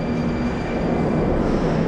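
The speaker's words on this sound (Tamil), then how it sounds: "இங்கே மெட்ரோ வந்து வந்துக்கிட்டே இருக்குது, அதனால் பேசவே முடியல." A Moscow metro train rumbles steadily through Arbatskaya station, a dense continuous roar of wheels and carriages with a faint high electrical whine above, loud and close for the whole stretch.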